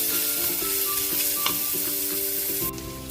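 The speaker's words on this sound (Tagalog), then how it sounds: "Magigisa na po tayo" Garlic sautéing for sinigang sa miso, a close, steady sizzle in hot oil with light stirring scrapes throughout and no talking.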